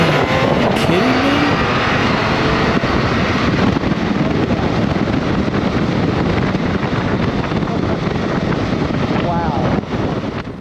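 A smooth inline six-cylinder 1649cc engine of a 2022 BMW K1600 GTL touring motorcycle drones steadily at speed under acceleration with heavy wind rushing past, loud and continuous throughout.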